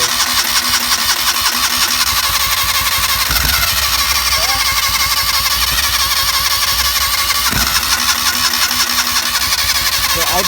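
Joyner Sand Spider 650cc buggy engine, which has a timing issue, being cranked and running, a loud continuous rough engine drone with rapid pulsing and a couple of brief revving swells, close by.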